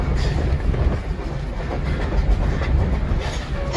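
A steam locomotive hauls passenger cars along rails near a tunnel, a continuous loud rumbling roll of wheels with faint rhythmic clatter and no voices.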